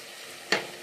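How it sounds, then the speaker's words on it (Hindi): Chopped onions fry for poha in hot oil with mustard seeds and curry leaves: near-quiet background, then a sudden loud sizzling burst about halfway through that stays crackling to the end, with no voices. "अच्छे से कलर चेंज होने तक भूनना प्याज को।"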